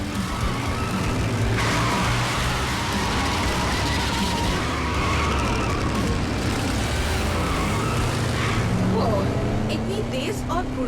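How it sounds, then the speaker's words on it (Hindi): A fast car speeds along and skids, a loud, dense roar of engine and tyre noise filling the whole stretch, with squealing tones rising near the end and background sound throughout. "इतनी तेज और फुर्तीली गाड़ी बहुत दिनों बाद देखी।"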